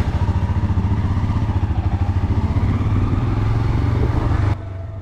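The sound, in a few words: motorcycle riding on road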